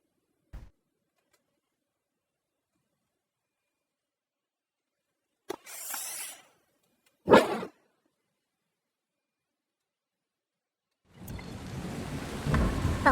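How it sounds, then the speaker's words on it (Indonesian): In the zombie game Dying Light, a few isolated cracks and rumbling bursts of thunder break long silence, followed by a steady hiss of rain that rises near the end. "Hujan am."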